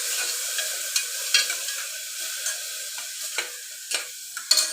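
Crushed ginger and garlic fry in a pan with a soft continuous sizzle, punctuated by several sharp scraping stirs of a spoon at irregular intervals, close and clear with no talk.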